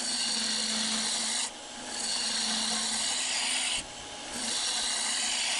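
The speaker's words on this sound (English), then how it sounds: "removing some excess material with the roughing gouge" Roughing gouge cutting wood on a lathe, a loud close continuous shaving rasp with a steady hum underneath, briefly dropping twice as the tool lifts off the spinning wood before biting again.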